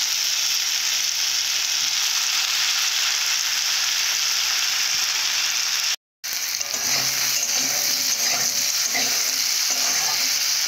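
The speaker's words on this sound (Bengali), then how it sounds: "কচুগুলোকে ভালো করে ভেজে নেব, নিলে তরকারির টেস্টটা বেশি হবে" Taro (kochu) pieces frying in oil with only salt crackle and sizzle steadily up close, with a brief silent gap partway through, after which stirring and scraping sounds join the sizzle.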